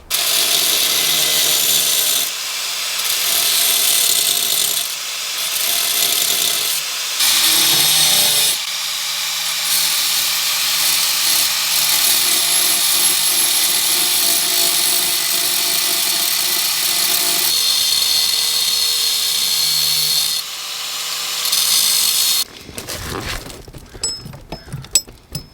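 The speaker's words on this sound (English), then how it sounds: "now we need to cut the brake pedal pretty much in half" A power tool saws through a car's brake pedal, cutting it in half while a Toyota Cressida is prepped for a track day: loud, sustained grinding whine broken by several short pauses, ending in brief clatter.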